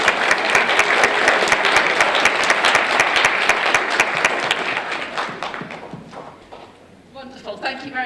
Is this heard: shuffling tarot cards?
no